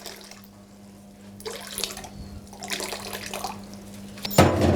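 Room-temperature tap water runs from a faucet in bursts for hydrating stone-ground wholemeal flour, a soft splashing flow against a faint steady hum, ending in a louder gush.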